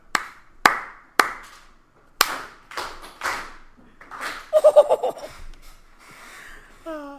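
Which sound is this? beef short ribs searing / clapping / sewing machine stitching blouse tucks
clapping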